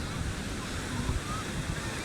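Sea waves wash onto a beach in a continuous low rumbling surf, with wind buffeting the microphone throughout.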